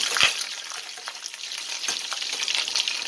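Crab cakes frying in a pan, a dense, continuous sizzle and crackle throughout, close and fairly loud, with scattered sharp pops and no talking.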